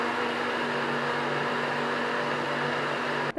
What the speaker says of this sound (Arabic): وغادي نطحن كلشي